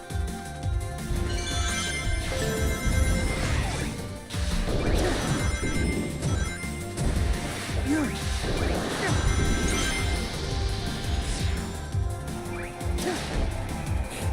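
Glass shatters in bursts of smashing and whooshing game effects in Shadow Generations, recurring through the stretch over music and constant talking.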